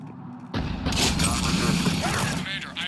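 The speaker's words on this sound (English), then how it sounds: "The cannon fire is clearing the way." Cerberus cannon fire in Mass Effect 3 erupts as a sudden heavy boom that swells into a sustained rumbling barrage, close and loud, with a voice speaking underneath.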